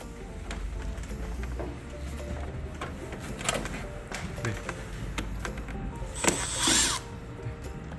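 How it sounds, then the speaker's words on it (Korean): Screws being loosened from the rim of an LG Whisen Aroma stand air conditioner, with a series of short clicking, ratcheting mechanical sounds close by and a brief louder scraping burst near the end. "테두리 나사를 풀어줍니다."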